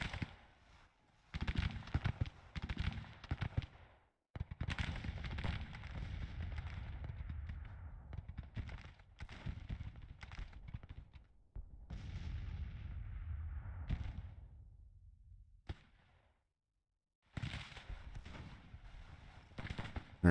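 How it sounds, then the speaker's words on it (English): Cannon fire from artillery batteries in the Grand Tactician: The Civil War strategy game, rendered as a series of heavy booming volleys with rumbling tails. The bursts come in irregular clusters broken by short quiet gaps. "let's get the guns firing"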